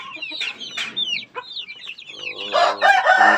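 Crossbred chicks packed into a corner of a brooder let out a chorus of shrill overlapping cheeps and peeps, loud and close, growing busier toward the end.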